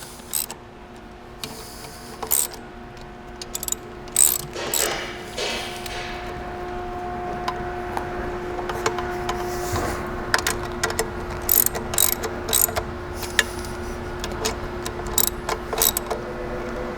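A 7/16 wrench snugs bolts on the mid-plate section of a Knight light tower, with quick ratcheting clicks and bursts of metallic mechanical rattling over a steady hum. The sound is close and moderately loud.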